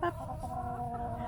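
Backyard hens in an urban pasture cluck nearby with short, loud calls over a soft, steady flock murmur.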